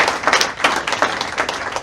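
An audience clapping at a fundraiser, steady rhythmic claps in quick waves, close and fairly loud, with no one speaking over it.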